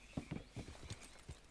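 Horse hooves clip-clopping in the Red Dead Redemption 2 video game, a faint, quick run of about six soft hoof strikes at an uneven walking rhythm.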